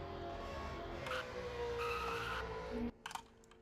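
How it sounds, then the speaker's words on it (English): Racing video game car doing burnouts, tires squealing with a steady engine drone for nearly three seconds before cutting off, followed by brief clicks. "Gotta go over Casual as he does his first burnouts in MRL"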